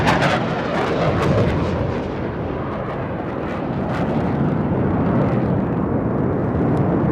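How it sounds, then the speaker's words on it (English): A single Rafale fighter jet flies past at about 900 km/h at a Republic Day parade while performing a vertical Charlie manoeuvre. A loud, sustained broadband roar fills the whole stretch with a slight dip midway. "a single Rafale aircraft flying at a speed of 900 kilometers per hour, carrying out a vertical Charlie"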